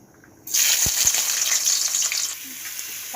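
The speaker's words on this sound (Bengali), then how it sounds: "এবার পেঁয়াজটা ভেজে নেব" Onions hitting hot white oil in a wok burst into a loud, steady sizzle that starts abruptly and crackles on close by, easing slightly toward the end, with no talk.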